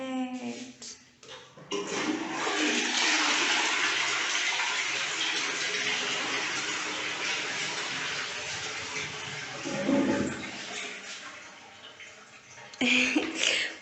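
A toilet flushes in an Airbnb bathroom in Mombasa, a loud continuous rush of water that runs for about ten seconds before easing off, with brief knocks and clatter at the start and end.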